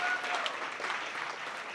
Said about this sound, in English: so let's have another round of applause for Caroline.